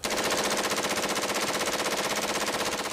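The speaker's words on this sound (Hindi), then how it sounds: "लेकिन ताबड़तोड़ गोलियों की आवाज जरूर सुनाई दी" Rapid automatic gunfire in a single sustained burst, dozens of shots fired in quick even succession for about three seconds, loud, dense and unbroken, with no voices.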